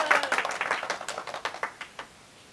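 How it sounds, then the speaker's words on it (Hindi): A small audience claps in a quick, uneven patter of separate hand claps that thins out and stops near the end, fairly faint and with no talk. "तालियां, तालियां"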